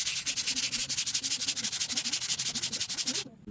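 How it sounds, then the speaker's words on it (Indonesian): Coarse sandpaper scraped back and forth across the surface of a paving block during an abrasion test, a loud, rapid, rhythmic rasping of quick strokes that repeats steadily before stopping abruptly near the end. "dilakukan uji aus dengan menggesek permukaan paving block menggunakan amplas kasar"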